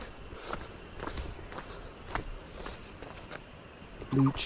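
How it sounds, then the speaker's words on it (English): Jungle insects in Nepal keep up a constant high, thin buzzing drone, with soft scattered footstep-like taps and a brief louder rustle near the end. "You can hear all the insects buzzing."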